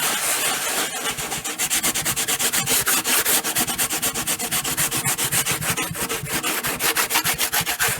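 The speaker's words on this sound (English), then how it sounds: "You're supposed to sand it off pretty well between coats." Sandpaper rubbing grain filler off a Padauk wood guitar neck, rapid rhythmic back-and-forth scratching strokes, loud and close, continuing steadily throughout.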